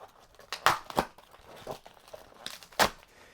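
Plastic and cardboard packaging of a Nerf Firestrike blaster being ripped open by hand, with loud crinkling tears in a few sharp bursts and softer rustling between, close up with no talking.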